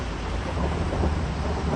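Heavy rain pours down steadily in a dense, continuous roar over Qumqo'rg'on district, Uzbekistan, with low rumbling underneath and no voices.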